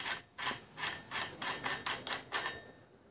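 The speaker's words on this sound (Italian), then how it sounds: "di lucidare anche gli steli della forcella esternamente e anche internamente." Road bike fork stanchions being polished by hand, a steady rhythmic rubbing of about eight even back-and-forth strokes, close and fairly soft with no talk.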